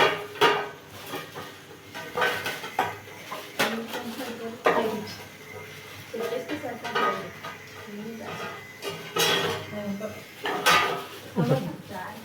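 Plates from a dinner set, including tiffin plates, clatter and clink repeatedly as they are handled and stacked, with steady knocks throughout and a voice talking over them.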